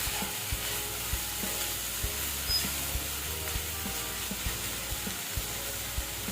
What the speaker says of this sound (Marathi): मी त्याच्यामध्ये मटार ॲड करते आता हे आपण मिक्स करून घेऊया